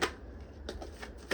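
Tarot cards shuffled by hand during a reading, a few quick close riffling snaps and soft card flicks spaced across a brief quiet moment, with no voices.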